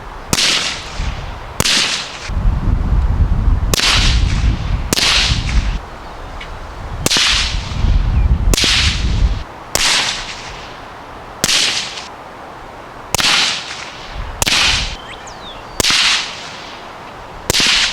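Suppressed rifle shots from a Thunder Beast Arms Spiro 556 suppressor at a shooting range, a dozen sharp cracks fired one at a time at irregular intervals, each a loud close report with a brief tail.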